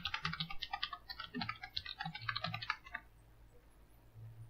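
Rapid, fairly quiet keystrokes on a computer keyboard while entering a rich text field, a dense run of clicks for about three seconds before trailing off into near silence.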